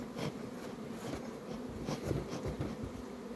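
Honeybees buzz steadily and densely around a hive that is being smoked. The drone is continuous and close, with no talk over it.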